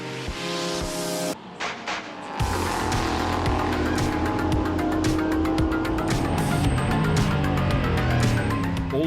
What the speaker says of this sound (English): followed by Jeffries and Hendrik Still in the KTM Crossbow GTX Batmobile from Teichmann Racing.